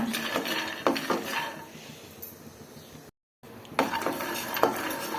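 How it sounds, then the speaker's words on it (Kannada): Peanuts roast in a pan over a low flame while a utensil stirs them, producing close clattering and scraping against the metal in irregular bursts, with a brief silent gap partway through. "ಈ ಥರ ಸಣ್ಣ ಉರಿ ಇಟ್ಕೊಂಡು ನಾವು ನೀಟಾಗಿ ಕೆಂಪಿಗೆ ಹುರ್ಕೊಳ್ಳೋಣ"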